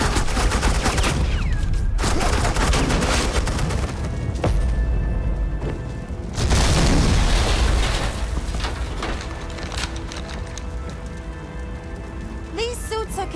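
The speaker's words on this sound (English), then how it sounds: "suppressing fire" Dense suppressing gunfire in the Batman Telltale game The Enemy Within, with sustained volleys, heavy booms and sharp cracks over a continuous battle din, loud and close throughout.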